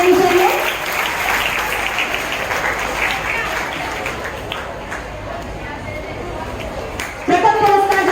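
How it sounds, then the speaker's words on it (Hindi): A hall of school students breaks into sustained, thunderous applause for a prize winner at a Hindi Diwas celebration, fading somewhat midway before a short voice and renewed clapping near the end. "तालियों की गड़गड़ाहट जारी रहनी चाहिए"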